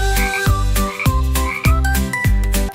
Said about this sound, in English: 7 frogs went ribbit, ribbit, bounce, jumped so high we lost count